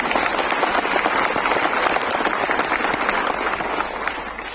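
Sustained applause from a seminar audience, a dense even patter of many hands clapping at close range that holds steady and tapers slightly near the end.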